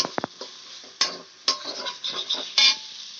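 A masala spice paste fries and is stirred in a pan, with irregular scraping strokes and clicks of a utensil against the pan over a soft sizzle, heard close with no talking.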